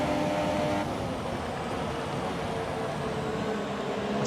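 An F1 car in a racing video game spinning out, heard as a steady droning engine roar of even loudness throughout, with no talking.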